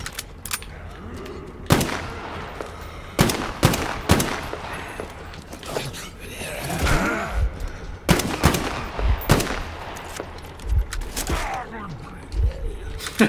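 Gunfire in the video game Metro Exodus: loud, sharp shots come in uneven clusters and single cracks across the stretch, with bursts of rapid fire and pauses between.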